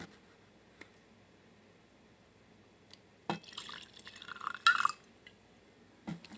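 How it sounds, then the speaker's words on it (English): Four Roses whiskey is poured into a glass, a quiet gurgling trickle of liquid building for about two seconds after a few soft clinks, close up with no talk. "I'm going to pour myself, like, a finger or two"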